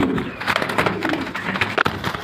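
Pigeons at a pigeon breeder's farm coo in soft, repeated calls over a constant busy background of birds, continuous for a couple of seconds at close range.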